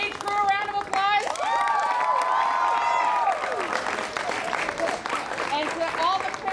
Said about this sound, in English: Give stage crew a round of applause.